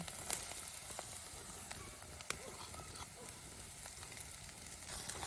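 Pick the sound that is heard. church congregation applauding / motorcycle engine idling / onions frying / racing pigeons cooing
onions frying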